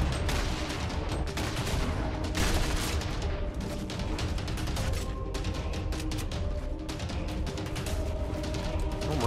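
Dense, relentless barrage of explosive weapon fire from a grenade launcher in the Fortnite video game, rapid overlapping blasts and bangs filling the whole stretch without a pause.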